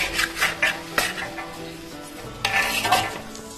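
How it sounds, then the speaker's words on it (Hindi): Wheat flour (atta) being roasted in ghee in a pan, with a spoon scraping and stirring in repeated strokes and metal clinks, steady at close range with no voices. "तो अब बस आटे को अच्छे से भूनते जाना है।"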